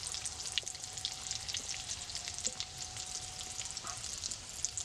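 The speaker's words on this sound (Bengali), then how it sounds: "সেমভাবে আমি বাকি সিঙ্গারাগুলো ভেজে নেবো" Potato and cauliflower singaras frying in oil make a soft, continuous crackling sizzle with fine popping bursts, heard close and with no speech.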